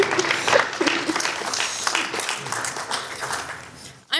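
Audience applause at a graduate and awards reception, a steady, fairly loud clapping that fills the moment and ends with a brief bump near the close.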